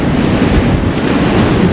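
Strong wind buffets the microphone on a seashore at night during shore fishing, with a steady roar of surf beneath it and no one talking.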